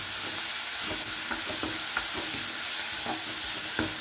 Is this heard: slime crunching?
no